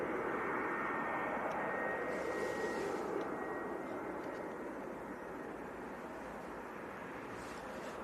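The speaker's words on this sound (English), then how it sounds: "first aircraft of the stream then. Little 300 Series 73." Boeing 737-300 landing at Leeds Bradford Airport: a continuous, broad roar of jet engines heard from a distance, steady and fairly loud, easing slightly toward the end.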